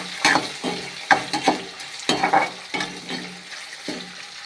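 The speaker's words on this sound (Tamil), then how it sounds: "அது வந்து பூண்டு நல்லா எண்ணெயில் பொரியணுங்களா அதுக்காக." Garlic fries in hot oil for a ridge gourd poriyal, a steady sizzle broken by several sharp scraping stirs of a spoon against the pan, close and fairly loud with no voices.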